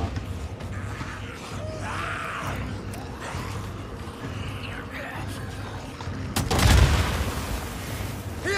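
Gunfire in the video game Days Gone during a fight against a horde: muffled game noise and scattered mechanical sounds lead up to one loud, booming shot near the end, with someone talking over it.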